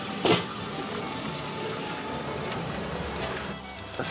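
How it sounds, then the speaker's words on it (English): Corned beef sears fat side down in bacon grease in a cast iron pan, giving a steady, close sizzling hiss with a sharper crackle near the start. "I'm gonna go in there fat side down, right in that bacon grease."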